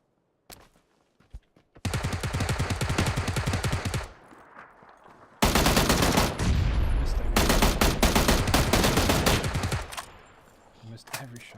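Dense bursts of automatic gunfire from the shooter game PUBG, two long loud volleys with a short gap between them, close and rapid, tailing off into quieter scattered shots.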